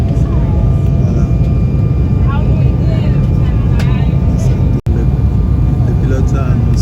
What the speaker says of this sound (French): Voilà, on atterrit, on commence à atterrir à Durban.